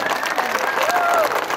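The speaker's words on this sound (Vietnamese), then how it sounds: "Chúng ta nổ tràng pháo tay." Applause fills a children's parish fair at Phuc Dien parish in Bui Chu diocese, a dense, even patter of many hands throughout, with a voice briefly rising over the crowd.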